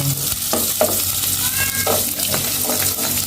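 Onion and then garlic sautéing in a pan for chicken wing adobo, a loud steady sizzle with scraping stirs throughout and a cat meowing nearby.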